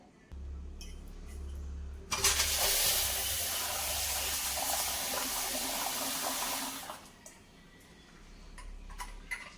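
Water runs and splashes steadily for several seconds as lentils are rinsed under a flowing tap, then stops, leaving low background hum.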